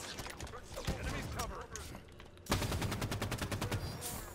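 Gunfire in Halo 5 Guardians: bursts of rapid automatic shots, the densest and loudest run in the second half, layered with game sound effects and a commentator talking over the action.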